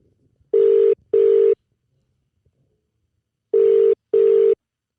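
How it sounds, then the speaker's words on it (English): Two pairs of electronic ringback tones, each a double beep, separated by a pause of near silence, as heard through a phone line. "It's ringing. It's ringing."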